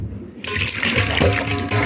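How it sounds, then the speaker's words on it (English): Cold tap water pours steadily into a basin of small omena sardines during washing, a continuous near splashing rush that starts abruptly after a brief quiet moment and runs on alone. "We add the cold water."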